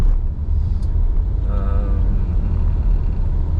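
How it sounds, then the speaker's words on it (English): Road traffic heard from inside a car stuck in a jam: a steady, loud low rumble of engines and tyres with a brief higher engine tone partway through and no talking. "I can't help that if I'm sitting in traffic"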